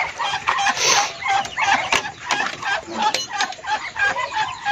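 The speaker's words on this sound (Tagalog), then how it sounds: "Tapos yung galing dito na mga sisiw dati na ganyan din kaliit noon, ito na sila mga idol." Chickens on a farm clucking and calling continuously at close range, a busy overlapping chorus of short clucks with sharper squawks throughout.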